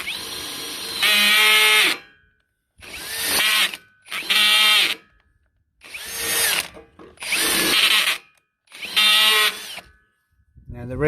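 A hand-held power drill bores into steel with WD-40 applied, running in six bursts of whining, grinding motor noise of one to two seconds each, separated by short silences, loud and close.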